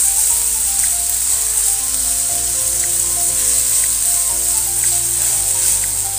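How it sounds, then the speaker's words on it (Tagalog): Thin slices of beef sukiyaki stir-frying in a hot pan give a steady, even sizzle that runs throughout with no one talking. "Or stir fry lang natin itong ating beef sukiyaki."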